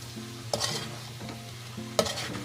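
Pork sizzles in a pan while being stirred for a dish with shrimp paste, a soft, steady frying hiss broken by two sharp clinks of a utensil against the pan.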